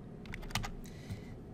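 A few quick keystrokes on a computer keyboard, light clicks close to the mic and clustered near the middle over a faint, steady room hum.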